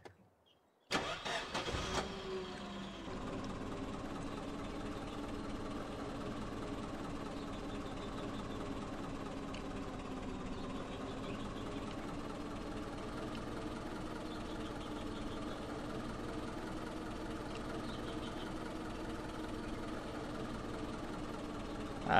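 A car engine in the Coal Mining Simulator game cranks and starts with a brief burst, then settles into a steady, low idle that runs unbroken and fairly faint.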